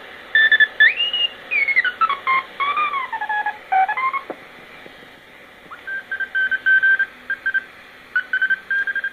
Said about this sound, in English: I'm trying to keep it just into oscillation so that we hear carriers and all sorts of